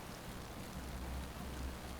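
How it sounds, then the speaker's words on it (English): Steady rain falls in the video game Singularity, a soft, even wash of drops with a low rumbling undertone, faint and continuous, with nobody speaking. "It's raining"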